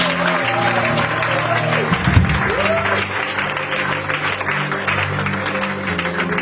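Church congregation clapping and cheering for Jesus, loud dense applause filling the hall throughout, with a voice and music faintly underneath.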